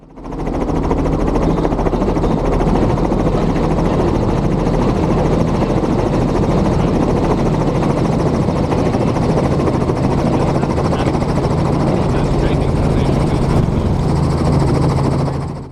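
Helicopter in a flight video game, rolled forward into translational lift for a running takeoff: a steady, loud rotor and turbine drone holds throughout with no talking.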